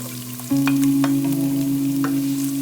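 Ginger hits the hot oil for spicy Sichuan pepper chicken wings with a loud, close, continuous sizzle. A steady hum runs under the frying, and a few spatula scrapes come through on top.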